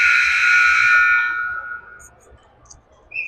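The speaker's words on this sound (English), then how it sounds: "And there goes the buzzer." At a youth hockey game, the end-of-period buzzer blares loud and clear with one long sustained tone that fades out. Faint arena noise and a few brief high clinks follow it.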